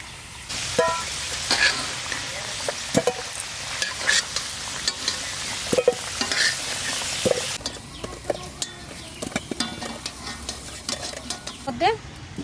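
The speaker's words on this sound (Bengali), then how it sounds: "তেজপাতা আর জিরে অল্প দিলাম" Bay leaf and cumin dropped into hot oil for a village-style mutton curry, giving a continuous sizzle and frying crackle with scattered stirring clinks and scrapes, close and moderately loud with no voices.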